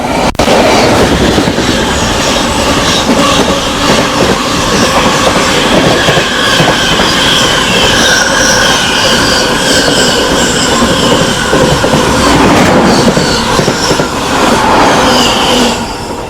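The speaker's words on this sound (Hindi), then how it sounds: "देखो अभी एक और ट्रेन आ रही है एकदम तगड़ी स्पीड मेंटेन करते हुए।" The Netaji Express passes at high speed, a loud sustained roar of wheels and rushing carriages with squealing and rapid clattering on the rails, steady throughout and very close.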